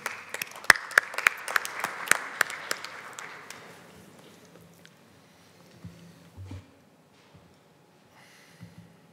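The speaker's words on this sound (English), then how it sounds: "So please give him applause." An audience at a telecom plenary session claps for an incoming presenter, a modest burst of applause that fades out after about four seconds and is followed by a few faint shuffling noises.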